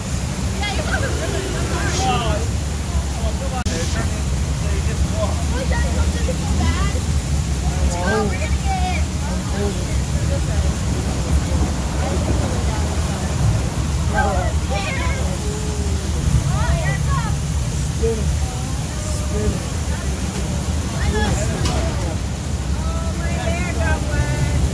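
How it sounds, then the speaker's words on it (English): Rushing water roars steadily as a waterfall splashes riders on the Infinity Falls river raft ride at SeaWorld Orlando, a loud continuous wash with riders talking and shouting over it throughout. "waterfall gets you guys wet some more."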